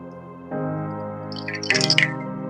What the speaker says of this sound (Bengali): গরম জল আমি ইউজ করছি এর মধ্যে